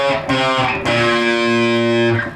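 Heavily distorted electric guitar chugs through a brief riff phrase, a few loud sustained notes with a quick restrike, close and unaccompanied.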